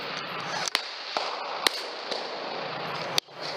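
A Hatsan PileDriver 457 big-bore air rifle fires at a range, its sharp, loud cracks landing at irregular intervals over steady background hiss, with no talk.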